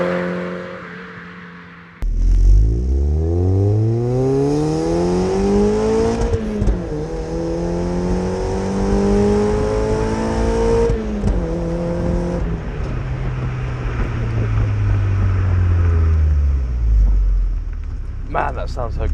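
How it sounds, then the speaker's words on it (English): A car fitted with a Cobalt exhaust revs hard while driving, the engine note climbing repeatedly, then dropping sharply at each rev-matched gear change. The loud, close exhaust drone dominates throughout. "I just love rev matching this car."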